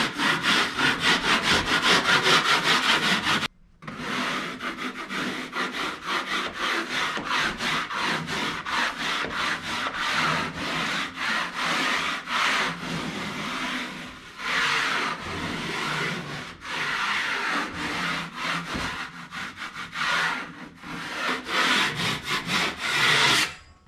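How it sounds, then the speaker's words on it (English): A hand scraper rasps across textured interior walls during a mid-century ranch home renovation, making loud, close, continuous scraping strokes in a rough rhythm, broken by one brief pause near the start. "I gotta go around and scrape these walls."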